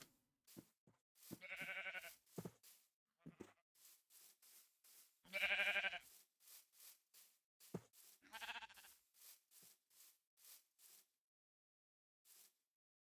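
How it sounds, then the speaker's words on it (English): Sheep in the Minecraft video game bleat several times in short, wavering calls, heard clearly against a quiet background with scattered soft clicks and footsteps between them. "Little sheep."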